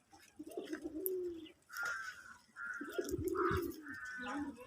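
Native domestic pigeons coo softly in a series of short, throaty calls, several birds overlapping with faint chirps in a quiet setting, no speech.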